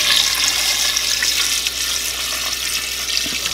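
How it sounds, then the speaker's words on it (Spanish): Water running from a tap into a pot to cover barbacoa meat with peppercorns and bay leaves, a steady hissing splash that continues evenly throughout, close and alone. "Voy a cubrir de agua, no le voy a poner de más, solamente a cubrir."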